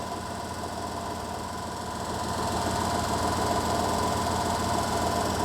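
A DC motor runs steadily during a laboratory speed test at reduced voltage, giving a continuous mechanical hum and whir with a slight rise in level midway, with no talk over it.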